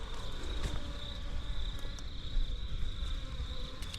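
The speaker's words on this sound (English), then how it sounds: "You can hear a lot of bees on the end of it." A honeybee swarm buzzes steadily in a dense, continuous hum close by, with no voices, faint overall but unbroken.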